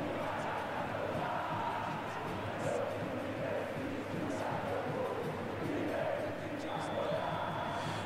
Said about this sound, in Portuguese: A torcida do Flu tá animada